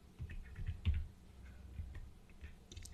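Typing on a computer keyboard while entering marks into an Excel spreadsheet, a quick patter of soft key clicks close to the microphone, with a louder cluster early on and scattered taps afterward.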